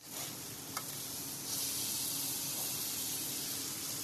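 Food sizzles on the grill inside the Zesto restaurant on Ponce with a steady, even hiss of frying that lasts the whole time, with one small click early on.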